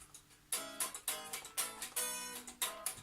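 Thin, quiet strums of unplugged electric guitar strings, a rhythmic pattern of about nine strokes with short decays.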